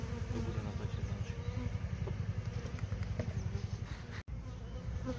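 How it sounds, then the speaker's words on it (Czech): Dense, steady buzzing of a honeybee colony at close range, a continuous loud drone that runs without a break through the whole stretch, with a brief dropout near the end and no talking. "Tak, tady je včelstvo"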